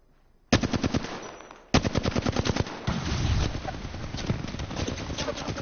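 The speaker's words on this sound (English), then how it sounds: "Shooting at me. Taking fire." Rapid automatic gunfire in Apex Legends, loud and close, with bursts of sharp shots starting abruptly and continuing in dense volleys throughout.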